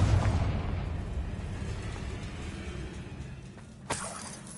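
A Confringo spell explosion in Hogwarts Legacy: a heavy, rumbling blast fills the opening, fades into a noisy roar, then a sharp shattering burst cracks out near the end.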